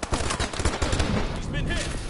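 Gunfire in a PS4 online shooter rattles off in quick, loud bursts of closely spaced shots that run nearly the whole time, with sniping from inside a building, and talk faintly mixed underneath.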